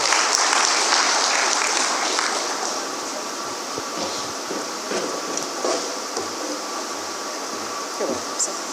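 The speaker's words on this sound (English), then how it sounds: "Please, a round of applause for him." An audience at a non-oil export summit claps for a company chief executive, starting as loud, dense applause and tapering to a thinner, fainter patter toward the end.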